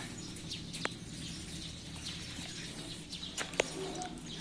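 Pigeon squabs give a few faint, brief chirps at sparse intervals over low, steady room noise.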